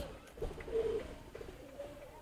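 Pigeons in a loft of racing birds in Ashkona coo in soft, low, repeated calls, with one longer coo standing out midway over a faint background murmur.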